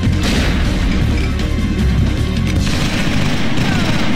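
Grenade explosions in the video game XIII, a loud, dense barrage of booming blasts and crashing impacts layered over continuous heavy rumble throughout.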